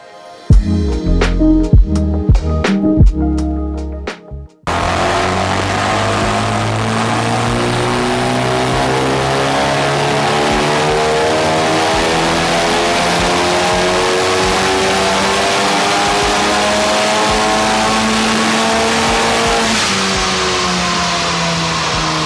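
Honda Civic Type R with its stock turbo on a dyno, running pump gas, first blipped in a few sharp revs, then held in one long, loud, rising full-throttle pull lasting about fifteen seconds before easing off.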